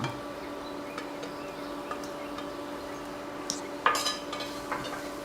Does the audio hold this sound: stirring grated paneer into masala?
yes